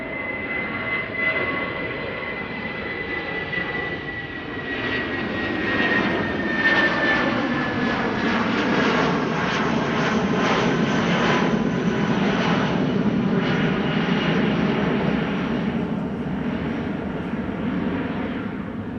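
British Airways Airbus A319 jet taking off from Schiphol, a loud sustained engine roar that swells and holds steady for many seconds, with a thin whine riding over it early on.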